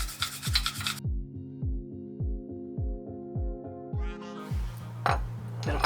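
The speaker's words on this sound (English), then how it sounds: "So we're going to use this metal brush to clean it up, clean up any rust or anything." Metal wire brush scrubbing rust off Mustang wheel parts, a series of regular rasping strokes about two per second, close and fairly loud, with ringing metallic overtones and a clatter near the end.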